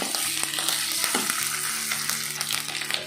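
Vegetables sautéing in a pan for Tamil-style sauce idli, a steady close sizzle with scraping stir clicks and a low hum underneath, no voices.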